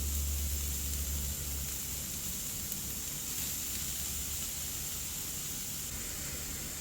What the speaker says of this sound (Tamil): இப்போ கொஞ்சமாக ஆயில் போட்டு முதல்ல நாங்கள் வெங்காயத்தை சேர்த்துக்கொள்வோம்